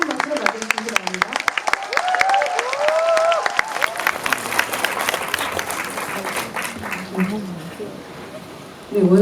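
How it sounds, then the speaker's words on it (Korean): An audience in a cinema hall claps warmly to welcome guests at a film talk event, a brisk run of applause that gradually softens while voices speak over it. "뜨거운 박수로 맞아주시기 바랍니다"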